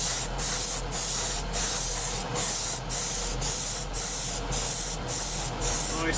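An airbrush sprays paint onto a 1/48 scale Academy F-4B Phantom model in steady, even strokes, a close hissing spray pulsing in roughly half-second bursts throughout.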